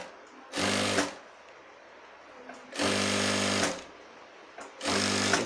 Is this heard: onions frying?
no